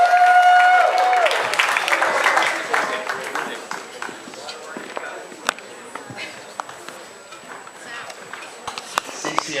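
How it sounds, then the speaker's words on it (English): Wedding guests at an evening reception give a round of applause that starts dense beneath a voice on a microphone, then thins to scattered individual claps. "I would like to ask you to give a nice round of applause for the stepfather of the bride"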